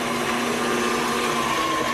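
An electric mixer whirs steadily through gluten-free banana bread muffin batter, a continuous motor hum with a faint tonal whine, close and unbroken with no talking.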